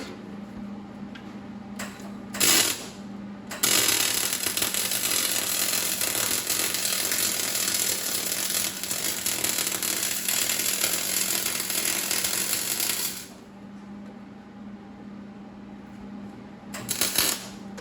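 Aluminum motorcycle pannier bottoms being welded, giving a steady, loud crackling hiss that runs unbroken for about ten seconds, with short bursts before it and a quieter hum after.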